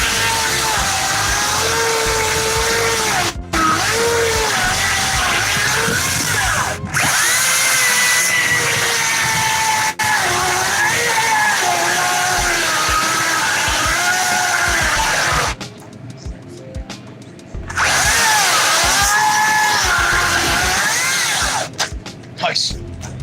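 A chainsaw runs with its chain brake released, buzzing loudly and steadily with brief dips and cutoffs, while people talk over it.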